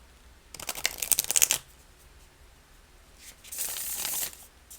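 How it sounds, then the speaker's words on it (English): A Sacred Bee tarot card deck is shuffled in two bursts, a quick riffling flutter followed after a pause by a softer, longer sliding shuffle, close and clear with no talking. "here I'm going to shuffle the deck so you have an idea"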